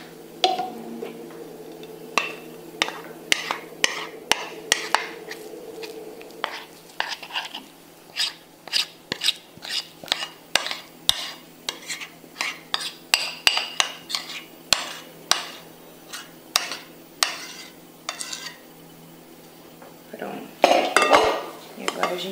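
Flourless chocolate cake batter of whipped egg whites, yolks mixed with melted chocolate and ground nuts is stirred in a bowl, a long series of rhythmic close clinks and taps of a spoon against the bowl, with a brief voice near the end.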